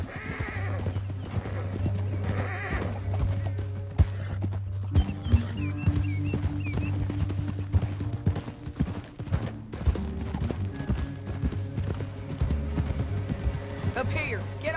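Horses clip-clop steadily at a ridden pace in the Red Dead Redemption 2 video game. The hooves thud under a low engine-like hum and game music, and a horse whinnies briefly.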